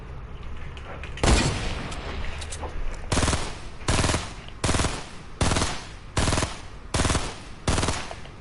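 Fortnite gunfire shoots at a building in a run of about eight sharp, loud bursts, evenly spaced after a first isolated shot, with no talking.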